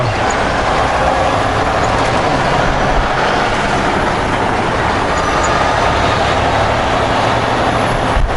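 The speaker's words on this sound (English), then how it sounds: "Fire truck's pulling out, but he doesn't have lights going" Fire truck pulling out without lights on a Seattle street, heard from a nearby vehicle: a steady loud diesel engine rumble and road noise throughout, with a hiss of brakes and no talking.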